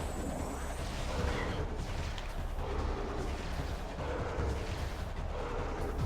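Missile shots from Samus's arm cannon in Metroid Prime 2: Echoes on the Wii, a steady run of booming blasts over a dense, rumbling game soundscape that stays loud throughout.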